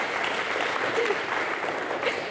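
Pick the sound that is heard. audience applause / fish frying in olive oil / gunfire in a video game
audience applause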